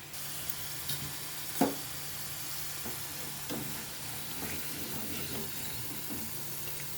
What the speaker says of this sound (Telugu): 2 మినిట్స్ పడుతుంది వేగడానికి.